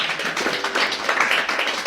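Audience applause for a speaker, a short burst of scattered clapping from a small group, fairly close and steady for about two seconds with no talk.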